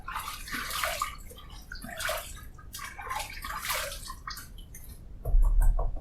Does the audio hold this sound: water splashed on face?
yes